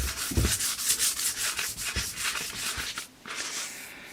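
A bonsai tool blade is sharpened by hand on sandpaper, producing steady back-and-forth rasping strokes that repeat rhythmically at close range with no talking.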